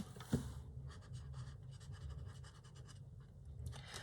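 A coloured pencil or marker in lemon yellow scratches across paper, a steady, soft close-up scribbling of quick back-and-forth strokes that runs through the whole stretch with no talking.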